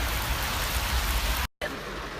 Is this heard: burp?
no